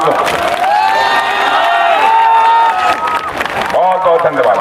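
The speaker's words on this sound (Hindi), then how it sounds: "एक बार हाथ उठाकर तालियां बजा दीजिए" A large crowd at a Bihar election rally in Majorganj for Defence Minister Rajnath Singh cheers and shouts loudly and continuously, with many voices rising together and some clapping mixed in.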